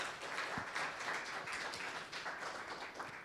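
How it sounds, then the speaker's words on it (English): An audience at an evening accelerator final-presentations event applauds the judges, a steady wash of clapping that is fairly faint and distant, with no voices over it. "Another round of applause for all of our judges that are here tonight."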